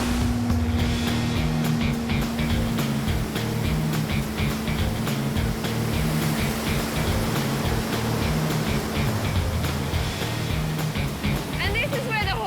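Motorboat engines drone steadily on the Hawkesbury River, a loud continuous hum with water and wind noise throughout the stretch.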